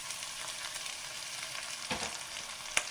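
Ginger and green chillies frying in hot oil in a pan while making instant rava idli, a steady, close sizzle running throughout, with a couple of brief louder crackles and stirring taps near the end.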